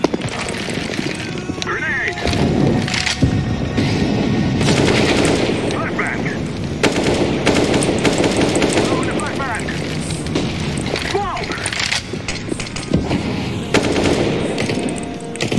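Gunfire in a video game, with rapid automatic bursts and booming shots through most of the stretch, loud and dense, alongside talking voices.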